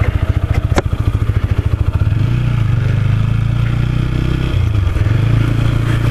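A motorcycle ridden on the way to a post office, its engine idling with a quick pulsing putter before revving up into a steady, loud drone that holds close and alone throughout.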